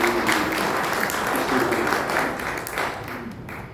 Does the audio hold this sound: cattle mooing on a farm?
no